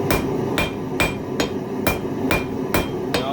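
Hot steel being hammered on the edge of an anvil in a forge: eight sharp, ringing blows at a steady, unhurried pace, loud and close, with a low background hum between strikes.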